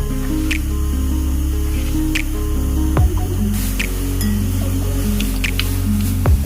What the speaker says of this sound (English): I'm sure you can hear the pop and crackle from the spices